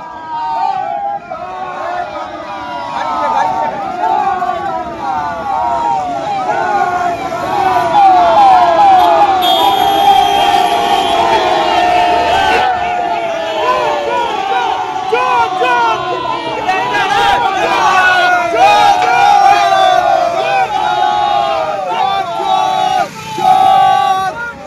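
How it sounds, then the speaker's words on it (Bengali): Young men at a roadside gathering near the Dankuni toll plaza on the Durgapur highway chant the Joy Bangla slogan, loud and continuous, a dense crowd of voices with shouting and rhythmic calls. "বেশ কিছু যুবক কালো পতাকা দেখানোর পাশাপাশি জয় বাংলা স্লোগান দেন"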